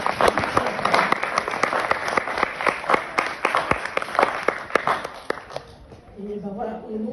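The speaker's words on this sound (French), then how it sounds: "Je vous propose de l'applaudir parce que c'est un travail." Audience applause at a French-language association gathering: dense, steady clapping from a sizeable crowd, loud and close, running for about six seconds before tapering into a few scattered claps and a voice beginning to speak at the end.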